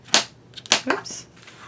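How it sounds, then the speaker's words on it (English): Adhesive tape backing being peeled off during scrapbook mini album page construction, a few short crackly rips close up with brief pauses between them. "Just removing the tape backing."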